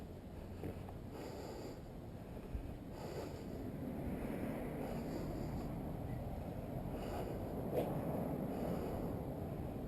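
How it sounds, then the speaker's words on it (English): Wind buffets a microphone outdoors near a truck being worked on, making a steady low rumbling roar that swells slightly partway through and carries on unbroken, with no talking. "Damn wind."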